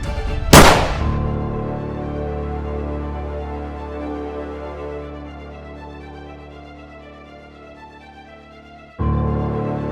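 A single sharp gunshot cracks out near the start, then rings into a sustained dramatic musical tone that swells on.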